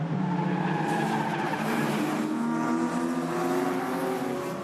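An Improved Production race car locks its rear wheels under braking at Hidden Valley in a 2016 race, the engine roaring with tyre skid noise steady and loud throughout, no voices.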